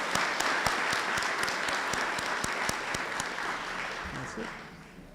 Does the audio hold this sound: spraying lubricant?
no